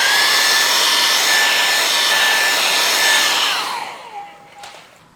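A hair dryer blows on freshly painted stones to dry the wet colour, its loud, steady whooshing roar running close up for several seconds before it switches off and winds down to quiet.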